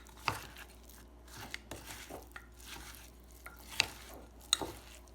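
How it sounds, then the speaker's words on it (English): A spoon stirs and scrapes through a pecan and oatmeal crumble in a bowl, giving irregular soft mixing rustles and sharper clinks at close range, with no speech. "I'm just going to mix it up, and it'll come together into a really nice looking crumble"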